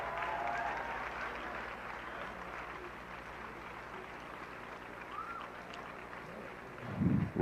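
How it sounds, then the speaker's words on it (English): Steady, moderately faint clapping rises from an audience honouring a professor at a law alumni gathering, a continuous wash of many hands ending in a brief low thump. "if you are clapping for Prof, you can do better"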